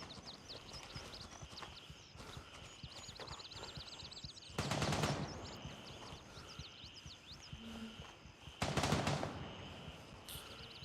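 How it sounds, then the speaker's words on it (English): Distant gunfire in the video game Gray Zone Warfare: two short, loud broadband bursts about four seconds apart, heard over steady outdoor ambience with chirping birds. "I did hear some gunfire over on the far side of the base."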